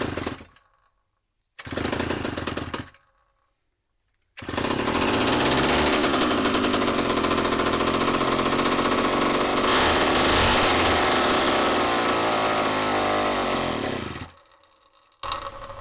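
A vintage Homelite WIZ two-stroke chainsaw fires up, catching briefly in two short bursts before roaring loud and close for about ten seconds, then cutting out as its fuel runs dry.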